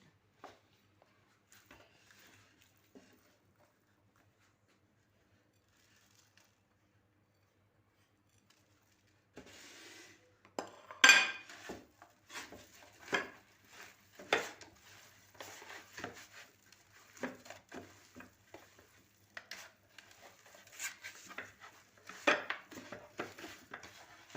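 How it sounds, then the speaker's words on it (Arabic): Spices, turmeric, garlic and salt being stirred together in a bowl, giving close, irregular scraping and clinking of a utensil against the dish after a quiet start, with no talking. "نحاولوا نخلطوا كل شيء مع بعض"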